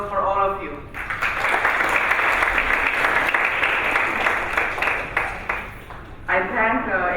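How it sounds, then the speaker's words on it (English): An audience applauds students at a Bharat Parv cultural event, a sustained burst of dense clapping lasting several seconds, loud and near, with brief talk before and after. "So applause for all of you."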